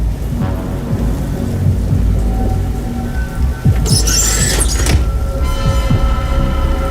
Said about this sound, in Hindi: बारिश से बचने का इंतज़ाम तो हो गया।